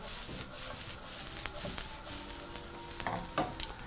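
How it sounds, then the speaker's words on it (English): Tripe tossed with spices in a hot frying pan, with a steady close sizzle under repeated scraping, stirring strokes and occasional clinks, continuous with no talk. "proceed to toss that in the pan, making sure to always mix your spices right through"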